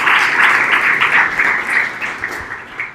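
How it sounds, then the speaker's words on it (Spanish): Applause from the audience at a React developer meetup in Medellín, a dense wash of clapping that starts strong and slowly thins out toward the end. "vamos a darle un aplauso"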